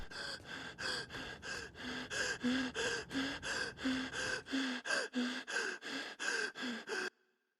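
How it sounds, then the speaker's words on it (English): A demon woman in a Fortnite Creative horror map breathes heavily in loud, rhythmic gasps, roughly two per second, close and alone, before stopping abruptly near the end. "the demon woman that has been prevalent throughout this entire map then appears in the corner, is breathing heavily"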